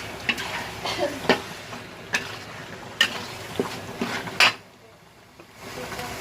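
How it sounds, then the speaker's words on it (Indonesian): Ground spice paste with shallots and garlic being stirred in a pan for Padang-style rendang, scattered clinks and scrapes of a utensil against the pan over a soft sizzle, with a quieter stretch near the end. "ini kita masukin bumbu-bumbu kita yang tadi kita ulek, yang mau bawang merah, bawang putih, kita tumis."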